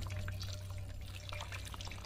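Water trickles and drips down through a bush filter of lichen, charcoal and sand tiers, a soft continuous patter of small drops heard close up.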